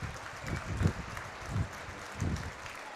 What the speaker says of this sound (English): A round of applause from the entire stadium from both sides comes on out.